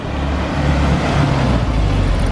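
A car on a quiet Japanese country road gives a steady, fairly loud low engine rumble that holds for the whole moment, with no voices.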